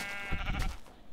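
A sheep bleats in the Minecraft video game, one short wavering bleat, close and fairly loud over quiet game background.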